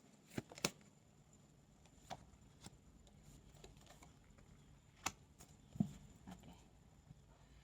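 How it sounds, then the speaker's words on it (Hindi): Tarot cards shuffled by hand, giving a few soft, scattered riffling taps and flicks spread unevenly across the stretch, faint and close, with no talk. "आपके सामने ही शफल कर रही हूँ फिर भी मेजर अरकानास ही आ रहे हैं बार बार"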